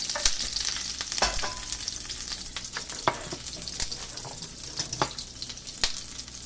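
Aromatics for Thai shrimp with chilies and basil fry in hot oil with a bright, busy sizzle, broken by repeated sharp scrapes and clacks of stirring, close and fairly loud.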